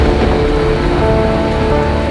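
Heavy rainstorm pouring outside during a wedding, a dense, steady roar of rain close by and loud, with no voices.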